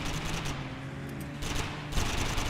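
Rapid gunfire in a Driver video game while shooting an enemy, dense bursts of shots in quick succession with a short lull in the middle, loud and close.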